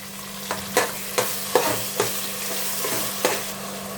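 Chopped tomatoes frying in a pan for a vegetable biryani, a steady sizzle broken by several sharp stirring scrapes at irregular intervals, close and fairly loud.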